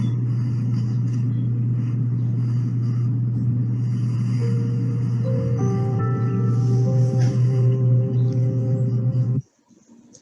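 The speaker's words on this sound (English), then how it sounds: "let's let this truck pass" Truck rumbling past outside, a loud steady low engine drone with rising tonal whine, heard close and alone for about nine seconds before cutting off abruptly.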